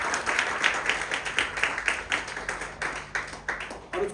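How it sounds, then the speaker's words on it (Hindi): A church congregation claps in steady rhythm, with many hands striking together close by for the whole stretch, clear and fairly loud. "क्या प्रभु ताली बजाएंगे?"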